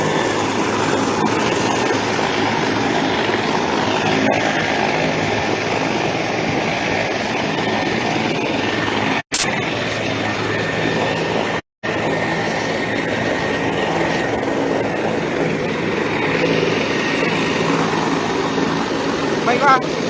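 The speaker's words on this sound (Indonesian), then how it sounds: "helikopter saat ini sudah siap lepas landas" A helicopter engine running before take-off, a steady idling drone and mechanical whine heard continuously, with a couple of abrupt cut-outs midway and a voice talking over it.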